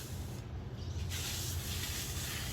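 A hand sprayer mists grape plants growing in pots, a steady close hiss that starts, pauses briefly and resumes, moderately faint and continuous over low background noise.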